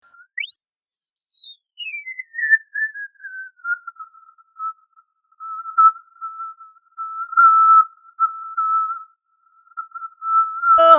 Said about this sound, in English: I'm just going to do a really tight notch now and just try and just go through the frequency spectrum.